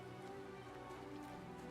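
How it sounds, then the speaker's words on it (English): Steady rain from the video game Planet Crafter, a soft continuous patter with no breaks and no voices. "Oh, it's raining, friends."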